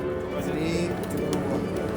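A pigeon on a Cairo street coos in low, throaty murmurs, close by, with someone talking over it throughout.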